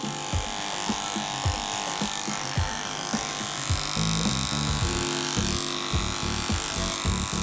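Wahl professional electric clippers buzz steadily while trimming a dog's fur, the motor hum close and constant with repeated soft bumps and rubbing as the blade moves through the coat.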